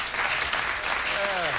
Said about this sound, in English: A mercy clap.